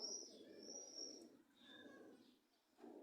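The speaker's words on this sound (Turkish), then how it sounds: "Dışarıda kuş sesleri var." Soft bird calls outdoors, gentle cooing and a few high chirps drifting in and out, faint and somewhat distant.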